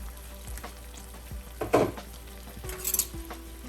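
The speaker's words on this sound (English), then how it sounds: "Cover and cook on low to medium flame." Chicken tikka frying in a covered pan over a low to medium flame, with a quiet steady sizzle and a few faint clinks and stirring knocks from the pan.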